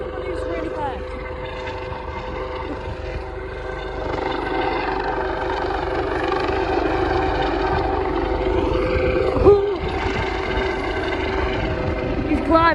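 An Airbus H165 air ambulance helicopter lifts off and climbs at full throttle, a loud, steady turbine whine and rotor drone that holds throughout, heard from nearby outdoors with people talking beneath it.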